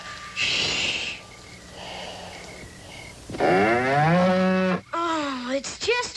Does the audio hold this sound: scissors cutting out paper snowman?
no